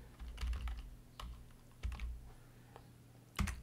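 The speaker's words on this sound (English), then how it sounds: "click on the search bar there and type in Grammarly" Someone types on a computer keyboard, a faint, sparse scatter of soft key clicks with short pauses between small clusters of strokes.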